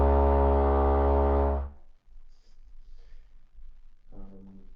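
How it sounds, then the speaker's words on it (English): A deep, loud synthesized foghorn tone made by filtering a spectrum on a theremin-style synthesizer holds for under two seconds, then cuts off, leaving faint room noise and a short low tone near the end. "This is a real foghorn."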